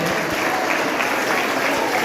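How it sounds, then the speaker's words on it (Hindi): Students and staff at a school cycle distribution event give loud, sustained applause, a thick and even roar of clapping. "और ये सभी आप सम्मान सत्कार आप जोरदार तालियों से सबका अभिनंदन।"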